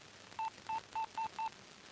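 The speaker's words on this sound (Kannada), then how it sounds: "ಶೈಲಜಾ, ಆ ಬ್ರೋಕರ್ ಒಂದು ಫೋನ್ ಮಾಡು." A telephone is dialed to call a broker, five short evenly spaced keypad tones sounding close and clear over quiet background.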